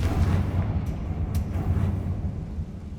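A Confringo fire spell blast in Hogwarts Legacy: a dense, rumbling low boom that sustains for a few seconds, with brief crackling bursts on top.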